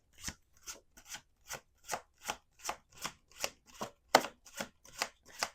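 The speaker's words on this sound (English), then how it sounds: "Let's do 2 more shuffles," Tarot cards being shuffled close up in a steady series of about fifteen crisp riffling bursts, evenly spaced, with no voices.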